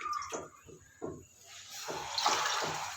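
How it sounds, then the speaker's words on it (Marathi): Water is poured from a glass into a kadhai on the stove for boiling spinach, with a few soft splashy pulses at first, then a steadier, brighter pouring rush, faint and close. "त्यामध्ये मी आता 2 ग्लास पाणी"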